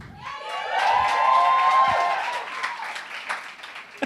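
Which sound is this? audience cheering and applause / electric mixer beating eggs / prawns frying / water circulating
audience cheering and applause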